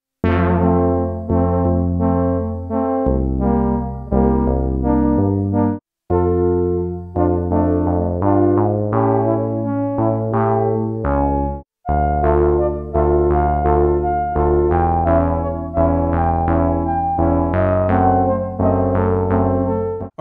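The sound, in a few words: multi-tracked chord pad harmony on Roland SH-101 synth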